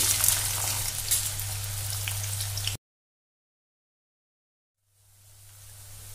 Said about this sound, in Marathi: गॅसवर कढईत तेल गरम झालेलं आहे। आपल्याला आता उभा आणि बारीक चिरलेला कांदा परतून घ्यायचा आहे।